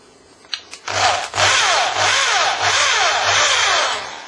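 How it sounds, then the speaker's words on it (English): A power drill bores steadily through a brass mortice lock case, with a continuous loud whirring grind that wavers slightly in pitch; a few short knocks come first, then the drilling runs without a break until the end. "So I'll just continue the drill."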